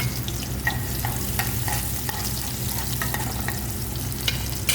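Garlic and onion sizzling in hot oil in a pan, a steady dense crackle and hiss with occasional sharper pops, close and loud throughout, no talking.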